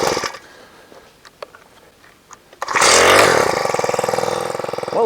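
A Garden Trax mini tiller's small engine, primed and set on choke, is pulled over with a few faint tugs, then fires up loud and runs steadily, close by, with no talking.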